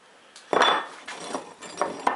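A brush scrubs across a freshly laid arc-welding bead in a few short, scratchy strokes with metallic clinks, starting after a brief quiet moment, close and moderately loud.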